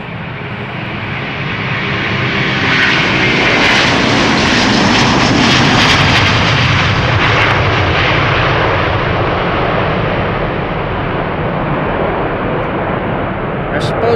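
Atlas Air jet departing from the center runway at Amsterdam Schiphol Airport, a loud, broad, continuous engine roar that swells and holds steady throughout, with voices talking underneath.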